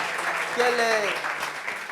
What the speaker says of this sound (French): On applaudit encore quand même.